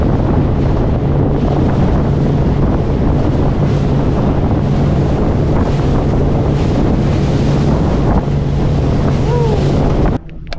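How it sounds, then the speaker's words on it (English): Strong wind buffets the microphone continuously while fishing from a boat along a creek mouth, a steady roaring gust noise with a low engine-like hum beneath, cutting out abruptly at the very end. "I can tell it's pretty windy out the front here"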